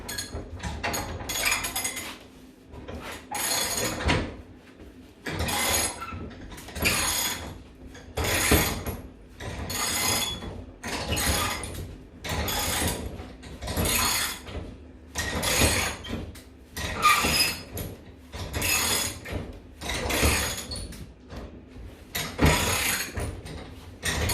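A Bull Vise bench vise being cranked tight with a wrench, giving repeated loud metallic ratcheting and clanking strokes in a steady rhythm, close up, with no talking.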